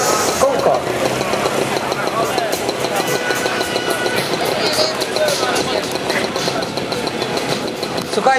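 A vintage 1979 motorcycle engine runs at a historic motorcycle rally in Płock, giving a loud, continuous mechanical rumble. Voices carry faintly in the background.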